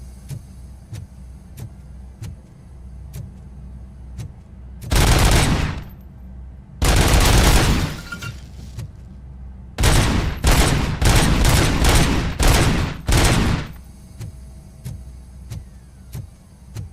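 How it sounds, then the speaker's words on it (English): Automatic weapon in RoboCop: Rogue City firing in burst mode: two separate bursts, then a quick string of about five short loud volleys, over a low steady background rumble. "I think I'll keep it on burst fire."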